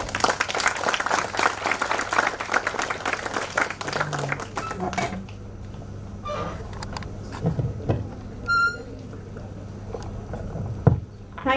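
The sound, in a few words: audience applause after a talk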